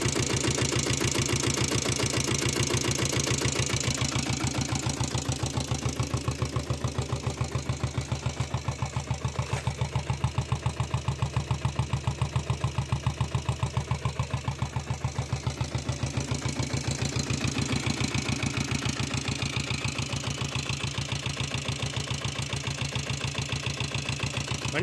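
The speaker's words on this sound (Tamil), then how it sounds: "வண்டி ஐடில் எல்லாமே நல்லா நீட்டாக ஓடும்" Royal Enfield Bullet diesel motorcycle with self start, its single-cylinder engine idling steadily with an even, rapid low thumping throughout, close and continuous with no talk.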